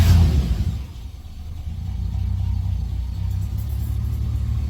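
A truck engine fires up, a short starter burst and rumble that settles into a steady, close idle drone, heard alone with no talking.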